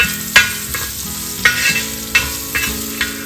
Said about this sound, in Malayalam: ഇപ്പൊ തേങ്ങ ഒന്ന് ഫ്രൈ ആയി തുടങ്ങി